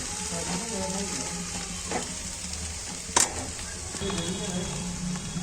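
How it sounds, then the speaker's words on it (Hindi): Food fries lightly in a pan while being stirred, a steady soft sizzle running throughout with occasional sharper scrapes and clinks of the spoon, close up, with no talking. "हल्का सा फ्राई हो जाए बस।"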